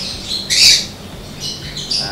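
A pet lovebird gives one loud, sharp squawk up close, followed by a couple of softer chirps.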